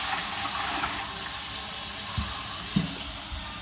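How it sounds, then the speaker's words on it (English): Cold tap water runs steadily into a container of turkey brine for deep frying, a continuous broadband rush with a couple of small splashy knocks near the end and no talking. "I'm going to keep adding cold water in until my turkey is totally submerged."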